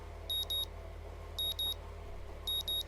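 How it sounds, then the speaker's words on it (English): An alarm clock in the Katawa Shoujo video game beeps in three clear double-beep bursts, evenly spaced about a second apart, over a low steady hum; no talking. "I don't know why I keep the early alarm on anymore, but it wakes me up the next morning just the same."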